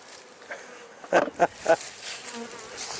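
Honeybees around a healthy hive during a transfer to raise a new queen, a low continuous buzz with a few louder passes as individual bees fly close to the microphone.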